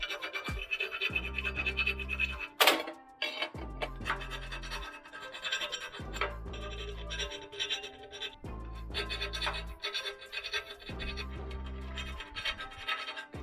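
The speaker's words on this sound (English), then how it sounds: "I'll deburr the holes." A hand deburring tool scrapes around drilled holes in a steel tube, repeated rough rasping strokes in bursts of a second or so, close and moderately loud.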